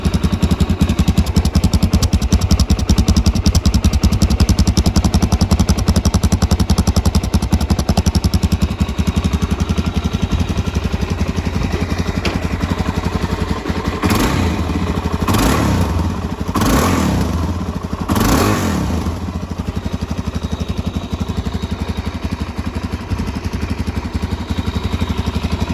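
A Suzuki DRZ400 dirt bike with factory exhaust idles loudly and steadily, then revs up in several sharp bursts before settling back, recorded close by.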